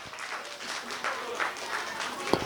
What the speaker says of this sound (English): A big round of applause for Advika because she got it right.